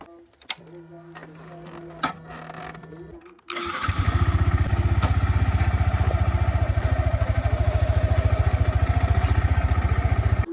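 A motorcycle engine starts after a few seconds of quiet background clatter, then idles loudly and close by with a rapid, even chugging pulse that continues to the end.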